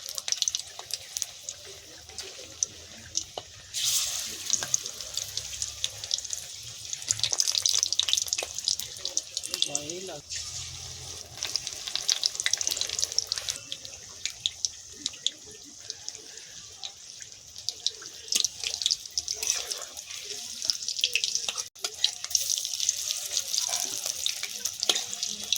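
Green chillies fry in hot oil for pakoras with a steady, bright sizzling hiss that runs throughout, punctuated by occasional pops and utensil clinks, with brief moments of someone talking nearby.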